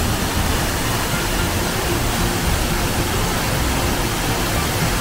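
A monsoon-swollen waterfall in Keonjhar roars in a dense, unbroken wash of rushing water, loud and steady throughout with no voices.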